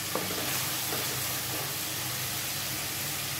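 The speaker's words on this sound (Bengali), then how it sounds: "আদা রসুন যত মাংসের যত মশলা আছে সব দিয়ে ভালো করে কষিয়ে নেব" Ginger, garlic and meat-curry spices sauté in a pan with a steady close sizzle and occasional stirring scrapes, continuous with no voices.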